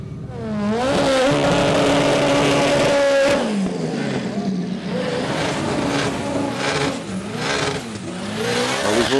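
Front-wheel-drive drag race cars at Santa Pod Raceway rev hard and scream down the track, a loud sustained engine wail with rising pitch, while a commentator talks over it.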